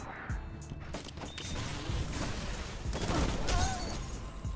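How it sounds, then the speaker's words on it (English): Gunfire in the video game Destiny from the Lord of Wolves weapon and enemy fire, a dense ongoing stream of overlapping shots and bursts with mechanical clatter, loud and continuous throughout the stretch. "what is shooting me?"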